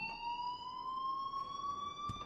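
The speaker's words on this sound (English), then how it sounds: "please turn off that alarm since that's your job" A school alarm rings in the Life is Strange video game, a steady electronic tone holding for the whole stretch at moderate volume, with no talk over it.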